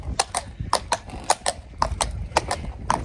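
Horses' hooves clip-clop on a hard floor at a show jumping event, giving a close, uneven run of sharp knocks at a walking pace, with no talk.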